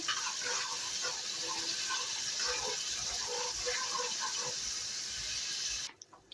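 Blended mixture poured into a pot of beans for a simple Persian bean stew, a steady close liquid gush lasting several seconds before stopping abruptly.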